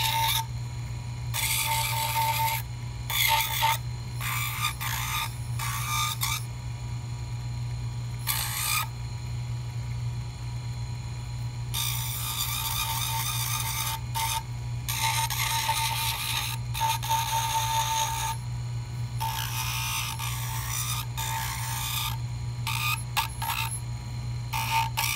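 A handheld rotary trimming tool grinds at the margins of an acrylic partial denture in repeated intermittent bursts over a steady motor hum, close and moderately loud.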